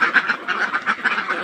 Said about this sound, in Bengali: তো এই হচ্ছে আমার হাঁস।